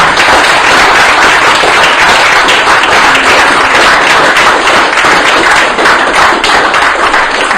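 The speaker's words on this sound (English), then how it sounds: "will you please give a massive round of applause to Jonathan?" A crowd at the close of a debate on Islam and violence breaks into a loud, continuous round of clapping, thick and unbroken for several seconds.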